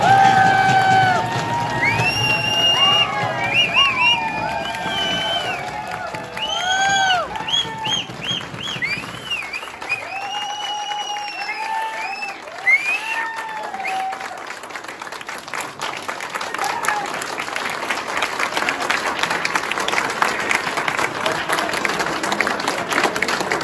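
An audience at an indoor training seminar bursts into sustained clapping and cheering, a dense wash of applause that continues for over twenty seconds, with scattered whoops and bright tonal sounds mixed in early on.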